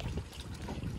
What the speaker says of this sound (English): if you hear a weird noise, that's, the live well's on